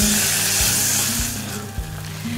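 Tomatoes tipped into softened spring onion in a pan and stirred, giving a loud, close sizzle that eases slightly as the stirring goes on, with no talking.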